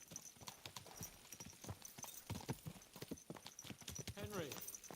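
Steady clip-clop of horse hooves at a trotting rhythm in a medieval open-world video game, close and clear, with a short whinny near the end.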